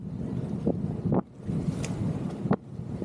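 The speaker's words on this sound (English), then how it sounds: "And yeah, it's windy again." Gusty wind buffets the microphone with heavy rumbling, punctuated by a few sharp flaps and splashes as a sailboat moves through the water of Plum Gut, a deep narrow channel off Long Island Sound.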